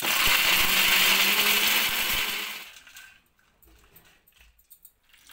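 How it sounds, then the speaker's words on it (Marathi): A mixer grinder grinds leftover pieces of bajra (pearl millet) bhakri flatbread with a loud, steady whirring roar for about two and a half seconds. It then cuts off, leaving faint handling clicks in near silence. "असं मिक्सरच्या भांड्यात टाकून बारीक करून घेणार आहे"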